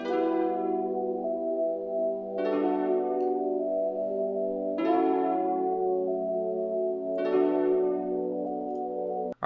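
Simple strummed keyboard chords with inverted top notes in an alternative R&B beat, four sustained chord strikes roughly every two and a half seconds, each ringing out fully and alone.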